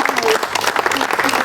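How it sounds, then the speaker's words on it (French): Short burst of audience applause at an exhibition event, steady clapping from a room of people with voices mixed in. "On peut applaudir."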